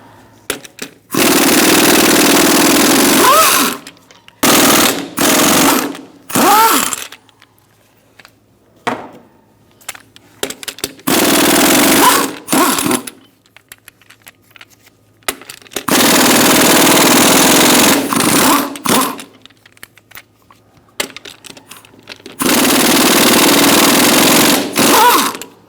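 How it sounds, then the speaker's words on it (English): Power impact wrench with a 21mm socket removing lug nuts from a Ford Expedition wheel, heard as several loud, sustained rattling bursts separated by short pauses. "Using a 21mm socket, we're going to remove our lug nuts."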